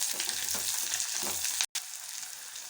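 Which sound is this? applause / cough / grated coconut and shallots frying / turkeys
grated coconut and shallots frying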